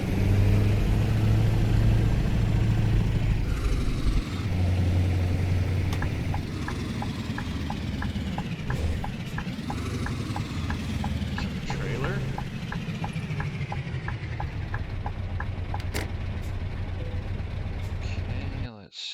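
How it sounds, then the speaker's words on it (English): A modded truck engine rumbles steadily in Euro Truck Simulator, a low, full drone that shifts in pitch as it works through gears, with someone talking over it throughout. "the sound mod is just this engine sounds great"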